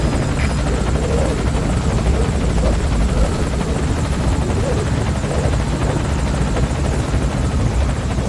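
An enemy helicopter from the Metal Gear Solid V video game roars loud and close, a dense unbroken wash of rotor and engine noise that holds steady throughout, with no speech.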